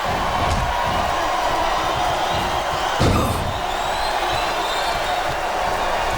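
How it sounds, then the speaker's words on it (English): Cheering from the arena crowd in the wrestling video game WWE SmackDown vs Raw 2008, a steady roar held throughout, with a sharp slam of bodies on the mat near the middle. "Listen to the crowd."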